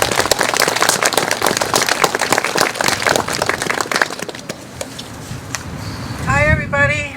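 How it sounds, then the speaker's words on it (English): Outdoor crowd applause at a Vietnam 50-year anniversary flag raising ceremony, steady clapping for several seconds on a windy day, then fading as wind noise and a voice take over. "Please give her a round of applause."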